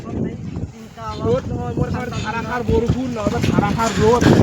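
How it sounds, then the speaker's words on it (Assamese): Strong wind blows outdoors on a breezy day out, buffeting the microphone with a low, steady rumble while a person talks continuously over it. "পুৰা বতাহ চলি আছে"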